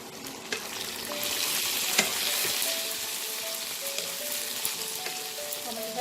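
Tomatoes frying with browned onions in a pan, a steady close sizzle with scraping and clinks as a spatula stirs them, continuous and fairly loud.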